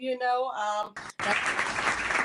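Audience clapping at a live show breaks out after a singing voice, filling the rest of the moment with a loud, even wash of hands.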